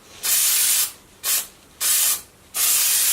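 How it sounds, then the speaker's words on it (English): Fixative spray hisses onto a pastel and watercolor painting in four separate bursts, each lasting under a second, with short quiet pauses between them. The spraying is close and steady. "We're going to just spray a light coat on this, just a few inches back."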